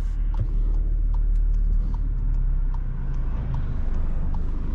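A Skoda Superb car cruising on a highway gives a loud, steady low road and engine rumble with tyre roar and faint ticking bumps, close and unbroken throughout.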